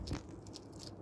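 A hedgehog loudly crunching dry pet food from a small bowl, with quick, close, crisp bites in a brief burst.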